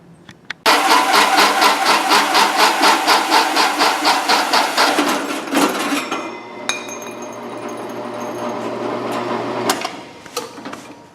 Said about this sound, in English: I'm going to go ahead and shave that gas tank filler off